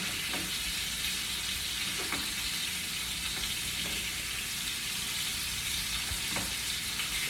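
Steak sizzles steadily in a hot pan, a constant close hiss with faint crackles and occasional soft clicks; no voices are heard.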